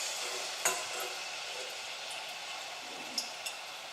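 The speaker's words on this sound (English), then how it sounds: "Now that your oil is ready, you can dip the potatoes inside." Potatoes fry in hot oil with a continuous bright hiss and crackle, steady throughout, broken by a few sharp pops and clinks close by.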